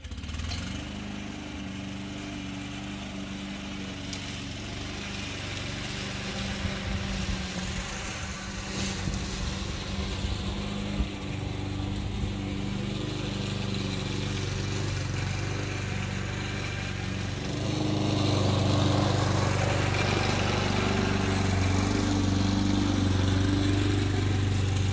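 A Honda IZY petrol lawnmower runs steadily while mowing, its engine a continuous droning hum. The drone swells and grows louder toward the end.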